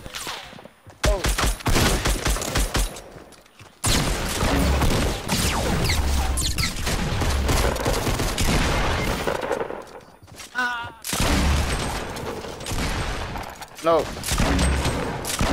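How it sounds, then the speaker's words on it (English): Shotgun fire in the video game Fortnite, with loud close blasts and heavy bursts of gunfire that fill the clip. A player's voice speaks briefly between and under the shots. "Hate shotguns"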